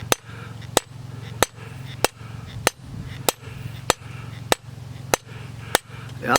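Blacksmith's hammer striking steel stock at the anvil while forging it square and drawing it down smaller, about ten loud ringing blows at a steady, even rhythm over a low hum.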